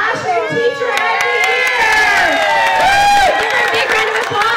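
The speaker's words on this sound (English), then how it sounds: "Give her a big round of applause!" School crowd, children among them, cheering, shrieking and clapping for a state classroom teacher of the year winner, loud and sustained, with high excited shouts over a bed of applause.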